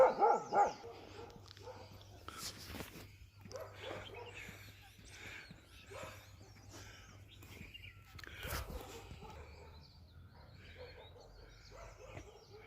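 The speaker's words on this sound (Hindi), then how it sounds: "एक कुत्ता लगातार भौंक रहा है, यही कुत्ता है।" A dog barks repeatedly in the distance outdoors in the hills of Kausani, faint against a low background hum and scattered ambient noise.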